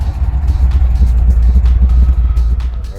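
A V8 LS3 Corvette rolls in with a deep, steady engine rumble, loud and close, holding an even low growl for the whole stretch with no talking.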